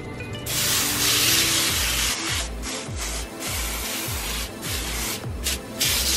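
A steady hissing spray of extra virgin olive oil cooking spray runs for several seconds, close and loud, with faint scraping and rubbing noises underneath.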